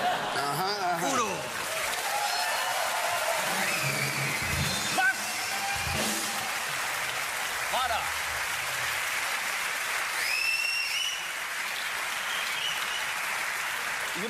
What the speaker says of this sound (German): dieser Applaus ist für Harald Junke